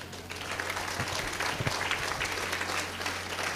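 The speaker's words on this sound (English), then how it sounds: "but you give a small clap" Scattered applause from an audience at a university convocation and founder's day ceremony, moderate and steady for a few seconds inside a hall, with a low hum underneath.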